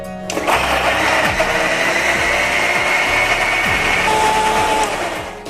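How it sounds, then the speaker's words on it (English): An electric kitchen grinder blends about four chopped tomatoes into a paste, starting abruptly and then roaring loudly and steadily with a high whine, close up and with no talking. "Now add 200 grams or around 4 tomato chopped and simply grind."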